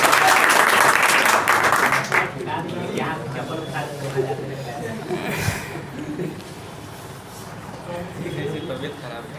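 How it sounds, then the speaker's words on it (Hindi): Lively applause from a crowd at a prize distribution for a free open test, loud clapping for about two seconds that tapers off into scattered claps, chuckles and murmured talk. "जोरदार ताली होना चाहिए"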